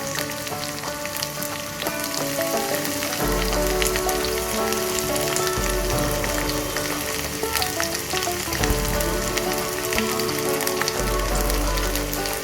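Chopped onion sautés with garlic and curry leaves in hot oil, giving a dense, loud, continuous sizzle and crackle with occasional stirring scrapes. No one speaks.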